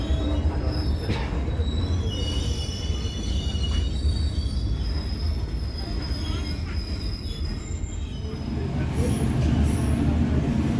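A train departing Bandung station rumbles along the rails with a steady low drone, thin metallic wheel squeals rising above it, and faint murmurs of people in the background.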